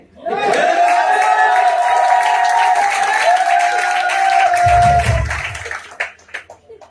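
An audience in Faridabad at an RCM business meeting claps and cheers loudly and continuously for about five seconds. A sustained chant-like crowd roar runs through it, then the noise fades into scattered claps.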